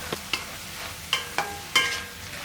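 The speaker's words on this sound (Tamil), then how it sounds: "இந்த அளவுக்கு நல்லா வதக்கியாச்சு" Banana stem pieces sizzle softly in a pan for sambar while a utensil scrapes and stirs in a few separate strokes, with quiet clinks between.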